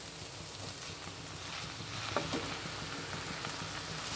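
Chapati pieces and cooked vegetables are tossed and fried together in a pan for spicy chilli chapati: a soft, continuous sizzle with faint scraping of stirring and a couple of light clinks, fairly quiet and steady, no voices.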